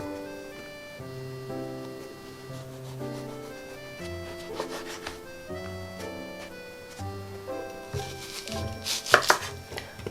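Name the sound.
onion being finely sliced with a knife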